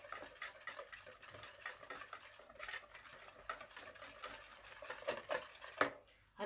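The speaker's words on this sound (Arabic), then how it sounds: "خلاص هيتضرب الخليط كويس جدا." A cauliflower fritter batter mixture with mixed spices being beaten in a bowl, rapid rhythmic tapping and stirring strokes of a utensil against the bowl, close and steady for several seconds.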